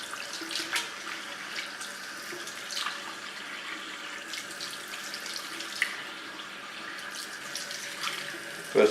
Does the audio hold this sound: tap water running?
yes